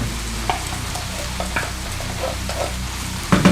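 A wooden spoon stirring a sizzling pan of dressing with ranch-style beans, a steady frying hiss under repeated soft scrapes and knocks, close by, ending in a louder clatter; no talking.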